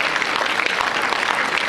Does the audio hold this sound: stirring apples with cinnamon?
no